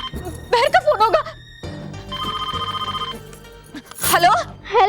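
A telephone rings in repeated electronic trilling bursts, loud and close, with a voice talking between and over the rings indoors.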